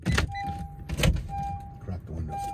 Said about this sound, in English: crack the windows